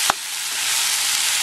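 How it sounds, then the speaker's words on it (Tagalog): Chicken gizzards frying in cooking oil, a brief clink at the start and then a steady, bright, loud sizzle holding evenly to the end, with no talking. "So, medyo lutuin natin dito sa cooking oil."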